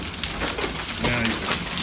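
Hail drums steadily on a metal roof during a Texas storm, a dense, continuous rattling patter close by with no letup, with occasional louder impacts standing out from the wash.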